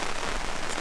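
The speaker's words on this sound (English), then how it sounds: "it's still raining this morning" Steady rain falls on a snowy campsite in the morning, a dense continuous hiss of droplets with no talking.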